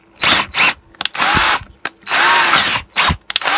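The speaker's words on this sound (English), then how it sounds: "I'm going to go actually with the slow bit on the drill this time." A power drill with a slow bit bores an 8mm hole while repairing a Stihl BG86 leaf blower, running in loud whirring bursts that start and stop about six times, close up with no talk.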